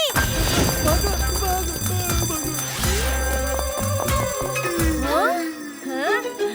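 A bank alarm bell rings continuously and insistently over busy music, with voices talking underneath.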